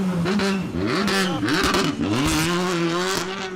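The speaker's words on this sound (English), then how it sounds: "You'll hear the car with about 30 seconds go to start." A rally car at the West Cork Rally revs hard at the start line, its engine note rising and falling through gear changes in loud, close bursts with a rough, raspy edge.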